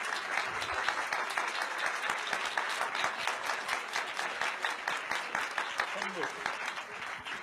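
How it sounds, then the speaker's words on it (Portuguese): Sustained crowd applause for a speaker named Círio at a public talk, a dense, steady patter of many hands with some voices mixed in, filling the whole stretch without letting up. "Uma salva de palmas, Círio."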